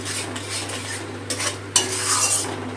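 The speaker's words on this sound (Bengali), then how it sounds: "টক দই আর গুঁড়ো মশলাটা কাজু বাদামটা একটু ভালো করে কষিয়ে নেব।" A spoon stirs yogurt, ground spices and cashews in a hot pan, with soft sizzling frying beneath and scraping strokes and clinks of metal against the pan, close by and without speech.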